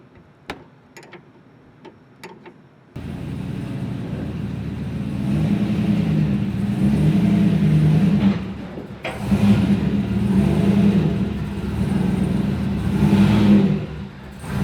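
A turbocharged Trans Am WS6 drives S curves outside on a cold 18-degree day. A few sharp ticks come first, then the engine drones in loudly, swelling and easing with a brief dip midway.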